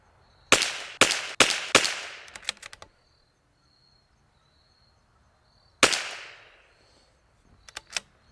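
Rifle shots from a rifle fitted with an L3I .457 drop-in barrel ring out in a quick string of five sharp cracks, followed after a pause by another loud report and faint distant pops.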